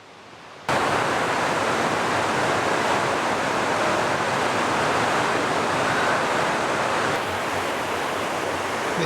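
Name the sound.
Indian Creek Falls waterfall, 25 feet high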